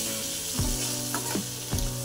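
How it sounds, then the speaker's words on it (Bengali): Spices sautéing in a pan for an egg curry give a steady close sizzle, with a few brief scraping stirs across the pan. "গল্প করতে করতে দেখো আমার মশলা কষিয়ে দিয়েছি"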